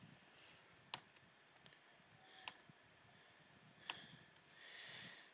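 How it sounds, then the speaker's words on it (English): Quiet keystrokes on a computer keyboard, a few scattered clicks with sharper taps standing out, faint and close in an otherwise hushed room. "So I type it like this."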